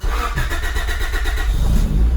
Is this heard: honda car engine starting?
yes